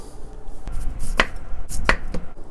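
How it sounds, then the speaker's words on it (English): A knife cuts radish on a cutting board, making a few distinct thuds in an uneven rhythm over steady background noise in a kitchen. "Take the radish, cut about this thick,"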